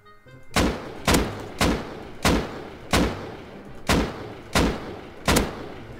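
Gunfire in the video game Rust: eight loud, evenly spaced single shots, each a sharp crack with a booming tail, fired at a steady pace of roughly one every 0.7 seconds.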